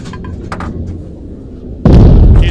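An enemy tank in a combat video game blows up, its turret flying off: a sudden loud, broad explosion roar that bursts in near the end and holds, after quieter battlefield rumble and clanks.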